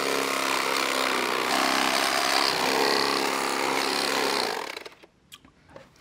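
A turkey chainsaw gadget cutting into a cooked turkey leg buzzes with a steady, loud sawing rasp for about four seconds, then stops abruptly, leaving faint clicks and handling noise.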